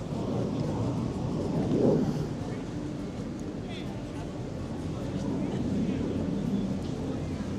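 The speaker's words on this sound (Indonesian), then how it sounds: "Wah, ada jet tempur." A broad roaring rumble of a fighter jet swells and fades as it passes at a distance over Rottnest Island, Australia, with a steady wash of noise throughout and voices underneath.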